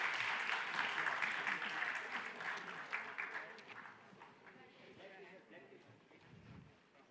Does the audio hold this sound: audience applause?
yes